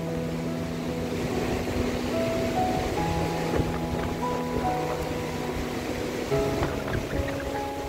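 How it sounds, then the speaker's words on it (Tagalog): Strong ocean waves surge and wash loudly and continuously onto Nasugbu beach during Typhoon Carina, with wind buffeting the microphone. "Lakas ng alon, no?"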